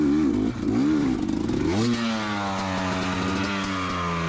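Dirt bike on a rocky hardpack woods trail at Prospect OHV, Golden Stairs, lugging in second gear at low to mid revs; the engine note is close and steady, dipping and then climbing with clattering scrapes from the rocks.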